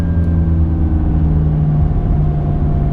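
A McLaren 570S engine pulls steadily during a test drive, a loud, close, continuous mid-pitched drone with a slowly shifting tone and no voices.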